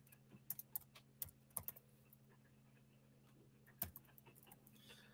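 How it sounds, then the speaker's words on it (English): Scattered keystrokes on a computer keyboard, a few quiet clicks in short bursts with pauses between, faint and close over a low steady hum. "can't tell if I typed that right or not"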